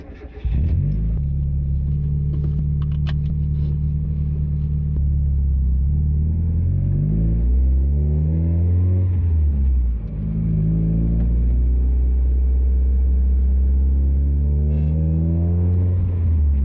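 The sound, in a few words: Mazda MX-5 car driving on road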